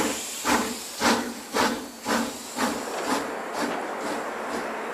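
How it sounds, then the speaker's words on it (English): A steam train chugs along in a rhythmic series of hissing bursts, loud and steady at first and then growing fainter as the puffs keep coming at an even pace, with no voices over it. "That's why I took the train to Auvers, a village outside Paris where Theo was waiting for me"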